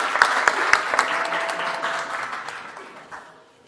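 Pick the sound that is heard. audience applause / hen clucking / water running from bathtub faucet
audience applause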